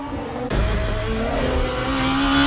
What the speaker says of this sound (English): the whine of the engine as you shift gears